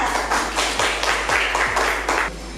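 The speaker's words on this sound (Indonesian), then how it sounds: "Ya betul, tepuk tangan untuk Tasya." A class of pupils claps together in a steady rhythm of sharp, roomy bursts, roughly two to three per second, continuing for a few seconds.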